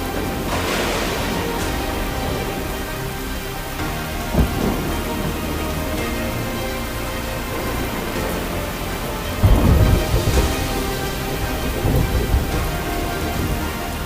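Heavy rain pours down in Surat during a monsoon flood, a dense steady roar of rainfall with deep rumbles of thunder rolling in twice, loud and close, with no talk.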